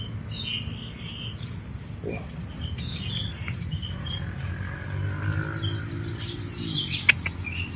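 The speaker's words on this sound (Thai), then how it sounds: "โอ้เสียงนกเสียงอะไรเยอะแยะเลย" Many birds chirp and tweet from different distances at a reservoir, over a steady insect drone, with scattered calls throughout and a sharp click near the end.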